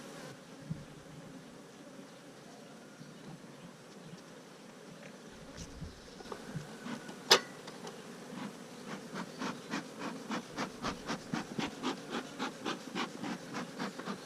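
A low steady drone of honeybees swirls around an open hive during inspection, joined in the second half by a rhythmic run of sharp scraping or tapping strokes against the hive.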